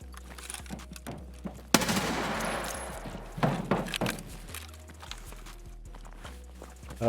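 Gunfire in the video game Escape From Tarkov, a burst of rapid shots followed by scattered single reports and footstep-like thuds, fairly loud within the game mix.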